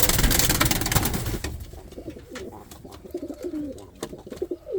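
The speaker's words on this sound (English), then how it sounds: "I want to show you this little pigeon right here" An Indian fantail pigeon coos close by in soft repeated rolling notes after a brief burst of rustling or handling noise at the start, with quiet background sounds in between.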